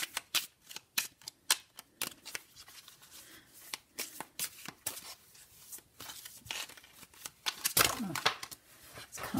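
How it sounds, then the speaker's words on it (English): Tarot cards shuffled by hand in a run of crisp riffling and slapping bursts, close and fairly loud, with a brief voice near the end. "so I'm going to give the cards a shuffle"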